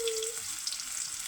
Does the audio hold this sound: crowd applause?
no